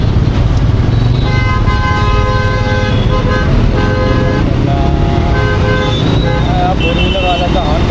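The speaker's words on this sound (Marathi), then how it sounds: "फोर व्हीलरवाल्याचा हॉर्न मस्त आहे रे" A four-wheeler's horn blares in Mumbai traffic, heard from a motorbike, with long repeated honks and other horns over steady engine and road rumble, loud and close. Someone talks over it.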